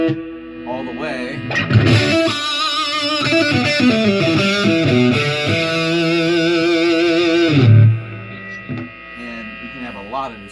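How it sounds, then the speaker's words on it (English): An electric guitar played through an amp with heavy distortion for a metal tone rings out loud and sustained, with thick buzzing chords held for several seconds before cutting off, then a few quieter plucked notes. "you can have a lot of distortion, and that's usually kind of, if you're looking for like a metal tone, that's the way to go"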